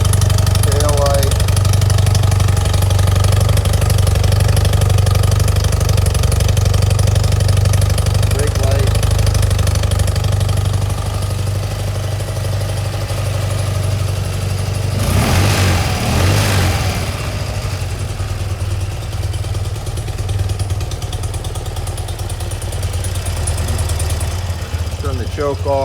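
A motorcycle engine idles steadily and loudly up close for a long stretch, its low throb settling after the choke is switched off, with a brief burst of noise midway.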